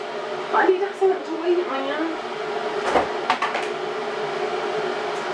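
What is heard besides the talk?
electric kettle boiling water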